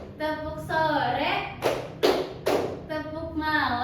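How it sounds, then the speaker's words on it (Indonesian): A class of Indonesian pupils clapping hands together three times in a teacher-led routine, three firm group claps spaced evenly between stretches of a voice talking. "kalau misalnya tepuk sore berarti 3 kali"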